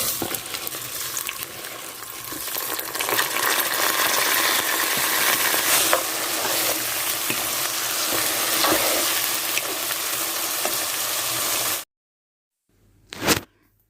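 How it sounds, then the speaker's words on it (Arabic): Raw rice is stirred into browned vermicelli in a pot for koshari, a continuous close scraping and rustling shuffle of grains with a light sizzle, ending abruptly in silence and a short thump. "بعد ما نزلنا بالرز ده قلبناه"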